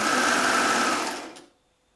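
A sewing machine runs steadily while stitching a fabric belt, its loud whirring motor close by before it slows and stops near the end.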